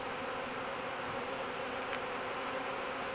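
Honey bees fill an open hive with a steady, dense buzzing that holds evenly at moderate loudness throughout, with no voices over it.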